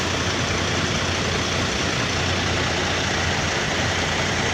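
A bus with a 1626 engine under repair idles with a dense, steady mechanical roar, loud and close, unchanging for the whole stretch with no talk over it.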